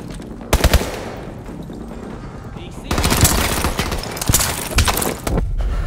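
Gunfire in the video game Call of Duty: Advanced Warfare, a few sharp shots early, then dense sustained automatic bursts with cracking impacts, loud and close, with someone talking over it.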